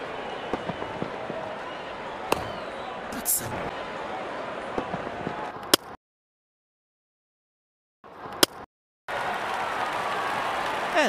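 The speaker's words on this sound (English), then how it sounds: "And there comes the celebration, and the crowd loves it." Virtual stadium crowd in the cricket game Real Cricket 22 cheering and applauding after a boundary, a loud continuous roar that cuts out briefly and then returns just as strong.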